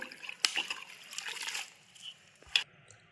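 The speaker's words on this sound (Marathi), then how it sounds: "ही मेथी चांगली धुवायची खालीवर करायची माती तळाला जायला पाहिजे सगळी भरपूर पाण्यामध्ये" Fenugreek leaves being washed by hand in a large basin of water, with soft sloshing and trickling and a couple of sharper splashes as the leaves are stirred and lifted, close by and fairly quiet.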